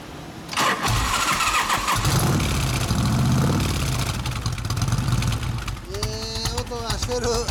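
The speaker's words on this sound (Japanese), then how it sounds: "そのエンジンを聞かせてもらえますか。" A 1989 Harley-Davidson FLHTC Electra Glide Classic with a Motor Stage brass muffler cranks and starts, settling into a loud, close, throbbing idle, while people talk nearby.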